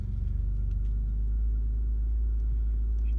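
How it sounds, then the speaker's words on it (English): A car creeps slowly from a yard into a driveway, its engine giving a steady low idling rumble close by, with no talking. "We're just moving the car to the driveway so I can go to work tomorrow."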